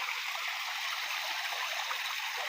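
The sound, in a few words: running water from communal water tank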